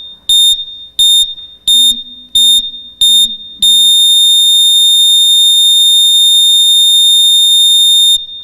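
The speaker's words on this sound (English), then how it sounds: "Heart monitor sound effect." A loud electronic heart monitor tone beeps five times in a steady rhythm, then holds a continuous flatline tone for several seconds before cutting off.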